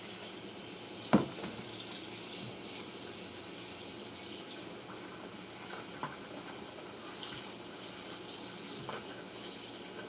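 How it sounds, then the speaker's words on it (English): Warm tap water runs steadily into a bowl of meat being thawed, a continuous soft hiss and splash with a sharp knock near the start and a few faint clinks, no one speaking. "So we're just going to continue putting our warm water in here."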